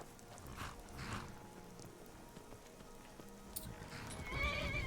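A horse neighs and whinnies in Skyrim, with soft hoof steps and a light rain-like ambience, fairly faint and heard alone without talk.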